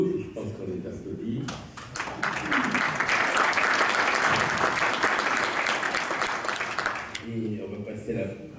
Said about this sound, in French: je pense qu'on est applaudi